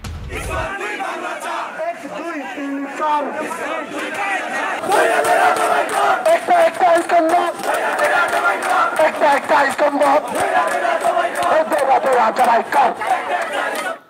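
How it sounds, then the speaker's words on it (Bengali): Hindu protesters chanting slogans in a street procession in Kishoreganj, a loud crowd shouting in rhythmic unison with bursts of collective yelling and background babble throughout. "স্লোগান উঠল মিছিল থেকে।"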